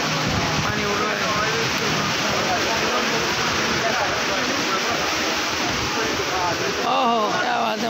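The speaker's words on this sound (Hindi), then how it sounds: "देखिए माशाल्लाह ज़बरदस्त पानी उड़ रहा है" A mall water fountain sprays hard and steadily, a loud dense rushing hiss of falling water that fills the scene throughout, with a voice briefly talking over it near the end.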